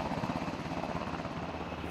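A military helicopter flies low over a fishing pond, its rotor beating in a steady rapid thump, loud and close, drowning out other sounds.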